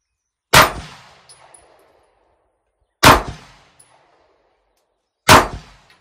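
Three sharp, loud shots from a Canik pistol with a new recoil spring ring out at a steady spacing of about two and a half seconds. Each has a hard crack and a short decaying tail, with no talk.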